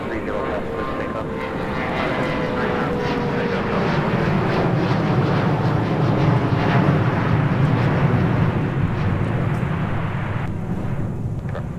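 An airliner takes off from runway 30 left at Minneapolis–St. Paul airport on a snowy winter day, its steady engine roar building and holding loud and broadband throughout, with no pause.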